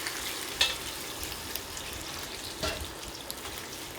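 A pot of chicken wings braising in soy sauce and sugar soup simmers with a soft, steady bubbling hiss and a few faint clicks and pops, no voices.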